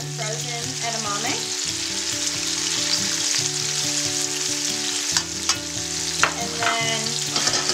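Carrots, snap peas, mushrooms and edamame stir-fry in a pan for a shrimp stir-fry, with a loud continuous sizzle and rhythmic scraping of a utensil against the pan, a brief voice speaking near the start.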